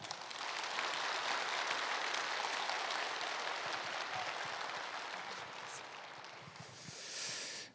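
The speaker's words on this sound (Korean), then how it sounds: "우리 인사 나눌 때 크게 환영의 박수 해주시기 바랍니다." A congregation at a Wednesday morning church service gives steady, moderately distant applause to welcome new staff, a continuous even patter that holds for several seconds before tapering off.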